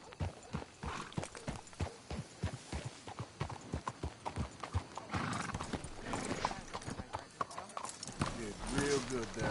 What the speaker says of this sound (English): Let's hitch the horses up ahead.